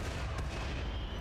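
A nearby explosion in the colony video game RimWorld rumbles as a dull, low boom that fills the short moment, fairly quiet and muffled with no voices on top.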